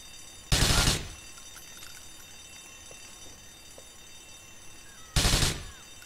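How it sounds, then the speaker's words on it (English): Two loud, sharp bursts of gunfire from Grand Theft Auto IV, about four and a half seconds apart, each lasting roughly half a second, set against a quiet background with no talk. "He shot me through a box!"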